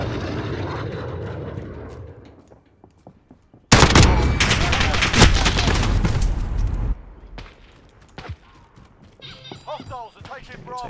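Gunfire in a video game: a loud burst of rapid shots erupts suddenly, roars for about three seconds, then drops away to quieter scattered sounds with some talk around it.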